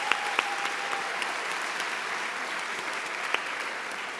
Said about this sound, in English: So a round of applause for the 3D printer.